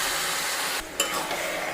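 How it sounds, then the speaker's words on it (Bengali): Marinated chicken is stirred into spice mix in a hot pan, making a close, loud sizzle with a brief dip and a sharp clatter of the utensil midway, no voices. "মশলার সঙ্গে একটু ভালো করে নাড়াচাড়া করে নিই।"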